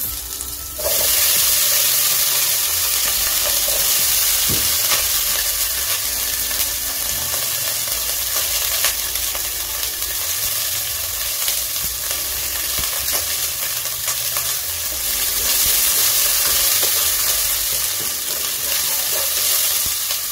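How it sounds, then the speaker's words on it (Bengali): Onions fry in a pan with a loud, continuous sizzle, overlaid with scraping and stirring clatter throughout, with a sharper burst after the opening moment as eggs go in. "পেঁয়াজটাকে নাড়িয়ে নেবো। এরপরে দেবো হচ্ছে ডিম"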